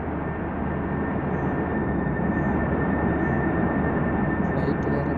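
Steady, loud broadband roar of an airplane passing overhead, continuous and unbroken for several seconds, heard from a moving vehicle on a tour.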